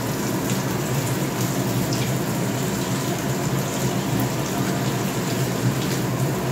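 Water pours steadily into a pot of cooking rice, a continuous close splashing rush that stays even throughout with no voices.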